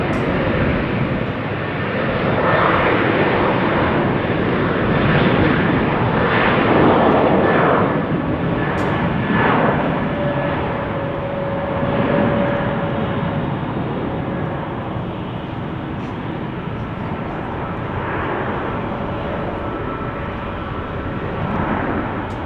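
A KLM jet takes off at Amsterdam Schiphol Airport, its engines a loud, steady, broadband roar that swells and then eases slightly as it climbs away.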